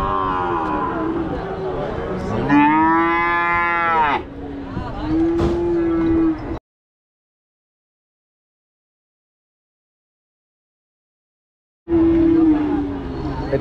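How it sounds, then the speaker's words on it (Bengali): Cattle low loudly and close by at the Panchbibi livestock market in Joypurhat, giving a few drawn-out moos over faint crowd babble, followed by a long silence. "এটা হচ্ছে ফ্ল্যাগ ভি জাতের একটা গরু।"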